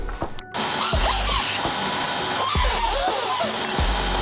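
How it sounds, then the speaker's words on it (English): A high-speed cutter grinds into the steel shock tower of a 1965 Mustang, a loud harsh whine that rises and falls with repeated cuts and bursts, up close, with no voices. "So the high-speed cutter wasn't cutting through it as well."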